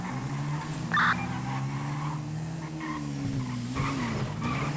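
Cars speed away during a video game jewelry heist, tires squealing briefly over a steady engine drone and background game noise, moderately loud.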